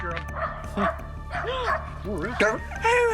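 Several short yips and barks from a dog mixed with excited talking, with a low steady hum underneath throughout.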